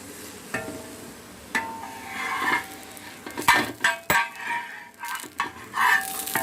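Parotta frying in a pan while being pressed down at the sides, giving a steady low sizzle with scrapes and clinks of a utensil against the pan at irregular moments.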